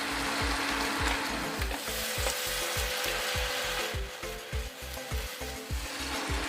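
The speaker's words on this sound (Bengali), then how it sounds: "মশলাটা ভালো করে ভেজে নেবো আমি" Turmeric and chili powder masala fries in a pan under a steady, close broadband sizzle, punctuated throughout by a quick rhythmic series of scraping stirs; no one speaks.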